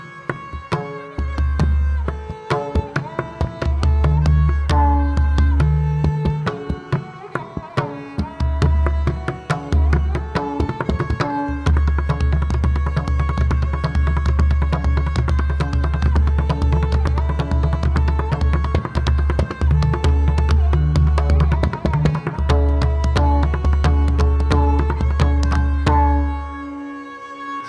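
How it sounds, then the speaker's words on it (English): Pakhavaj, a majestic two-headed drum, played in a dense, continuous solo with deep booming bass strokes under rapid, crisp treble strikes, loud and sustained over almost half a minute with no speech. "So that's the sound of the pakhavaj."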